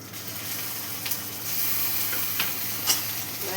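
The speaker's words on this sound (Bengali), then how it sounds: "এবার একটু নাড়াচাড়া করবো।" Frying onions with ginger-garlic paste, green chilli, turmeric, chilli and cumin powder are stirred in oil for a tilapia fish curry, a continuous sizzle broken by a few scraping strokes of the spoon, with no voices.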